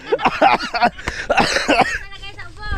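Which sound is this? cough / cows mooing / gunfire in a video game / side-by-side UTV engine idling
cough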